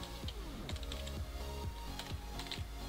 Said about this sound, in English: you type in player name